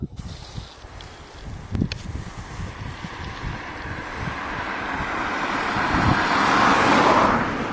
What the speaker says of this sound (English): Another car travelling too fast.